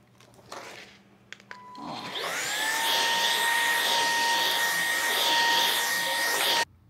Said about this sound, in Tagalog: Ayan, na-vacuum ko siya.